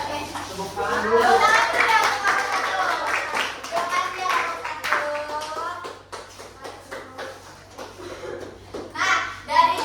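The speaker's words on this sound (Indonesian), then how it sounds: "Tepuk tangan dulu." Classroom clapping during a lesson on the area of squares and rectangles, with brief bursts of hand claps mixed with children's chatter and an adult voice speaking over them.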